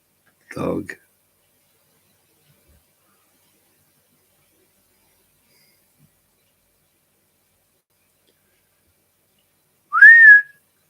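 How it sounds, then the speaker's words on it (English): A person whistles a short rising call for a dog after a brief voice, with near silence between the two sounds. "Does your dog respond to that when I whistle it?"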